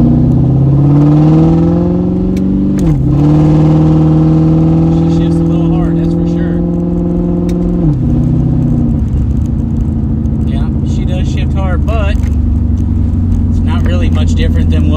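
A Ford Mustang with a 4R70W automatic transmission converted to a manual valve body accelerates hard, engine pitch climbing and dropping sharply at each gear shift, loud and steady throughout, with a person talking over it.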